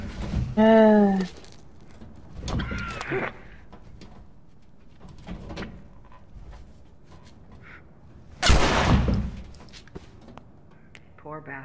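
A single loud, sharp gunshot in The Last of Us rings out partway through, decaying over about a second, with voices and quieter game sounds before and after it.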